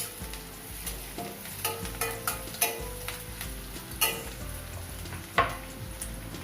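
A green chili is added to a pan already frying garlic and ginger, giving a steady oily sizzle punctuated by repeated sharp clicks and taps of a spoon stirring against the pan; no speech.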